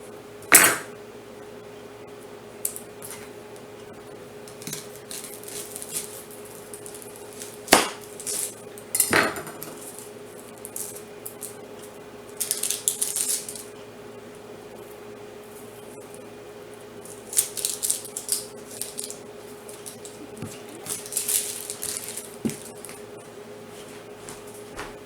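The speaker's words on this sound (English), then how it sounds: "I'm only going to cut up part of this onion." A knife works through part of an onion in a home kitchen, with scattered sharp taps of blade on board and a few clinks of dishes spread over a quiet stretch.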